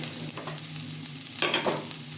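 Halved onion frying in a little oil for poori masal, a soft continuous sizzle with a couple of brief stirring scrapes, close and without talk.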